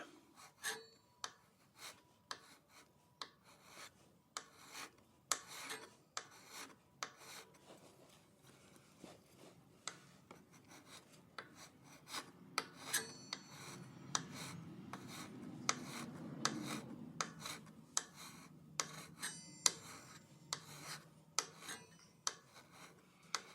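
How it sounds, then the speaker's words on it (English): A flat file rasps across a painted metal surface on a RadCity 5 Plus electric bike during assembly, near a brake rotor, in steady repeated strokes over a low background hum. "Trying to keep that flat file as flat on the surface as we can."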